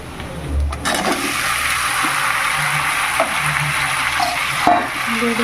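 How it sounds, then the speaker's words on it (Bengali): Jackfruit pieces tip into a hot oiled pan with fried onions, giving a sudden rushing splash and clatter that settles into a steady sizzle with scattered pops and stirring scrapes. "পেঁয়াজগুলো ভাজা হয়ে গেছে এবার আমি কাঁঠালগুলো ঢেলে দেবো"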